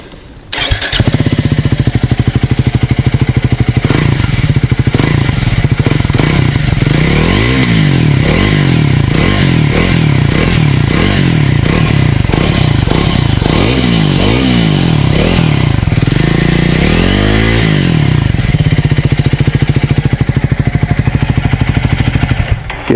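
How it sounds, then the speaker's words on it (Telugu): Triumph Scrambler 400 XC motorcycle idling, then blipped a few times, the single-cylinder exhaust note loud and close throughout with repeated revs rising and falling, no speech. "దీని ఎగ్జాస్ట్ నోట్ మనకి ఈ విధంగా ఉంటుంది"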